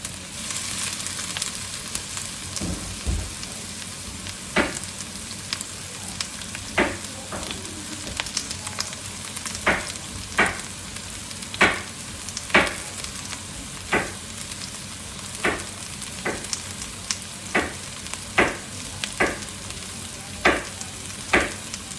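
Celery frying in a pan for a New Mexico style Thai curry, a constant soft sizzle broken by a regular series of sharp utensil taps and scrapes against the pan every second or so, no talking.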